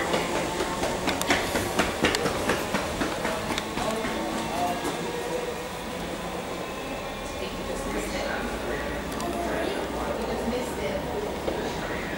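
A Southern class 313 electric train, unit 313-208, departs Hove station, rumbling and clattering steadily past with rhythmic rail noise and a high metallic squeal, fairly loud and continuous throughout.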